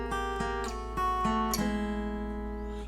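Acoustic guitar plays the opening lick of a song, a short blues phrase with a turnaround and an open first string, picked note by note close and moderately loud with no talking.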